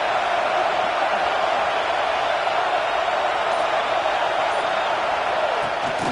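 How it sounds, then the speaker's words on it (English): Stadium crowd roaring in College Football 26 during a Penn State at Michigan State dynasty-mode game, a steady, dense wall of cheering that holds at full level throughout with no break. "This crowd knows when to bring it."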